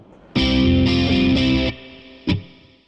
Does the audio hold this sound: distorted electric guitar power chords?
yes